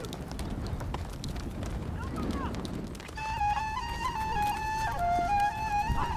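Wild herds of horses galloping in Mongolia, with hoofbeats thudding at moderate distance for the first few seconds before a sustained singing voice or music takes over.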